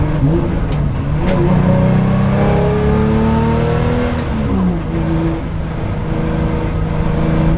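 A loud race car engine with sports camshafts drones steadily close by, its pitch climbing and dipping through gear changes with a rough, throaty tone.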